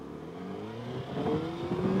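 A Honda Fireblade motorcycle engine revs up to around 5,000 rpm, a steady close engine note building gradually in pitch and loudness over two seconds.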